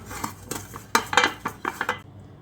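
A metal spoon spreads ghee around the inside of a bowl for an eggless semolina (rava) cake, producing close, uneven scraping strokes and light clinks against the bowl that stop after about two seconds.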